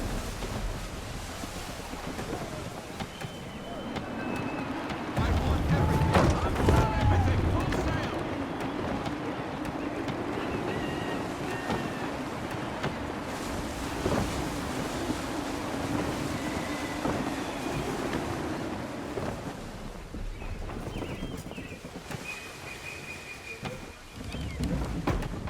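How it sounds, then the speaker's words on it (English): Steady gusting wind and rolling waves at sea in Assassin's Creed 3 form a continuous mid-level wash, with a sailing ship's creaks and faint distant tones drifting over it and a stronger swell surging briefly near the start. "Gusty winds can be difficult to manage."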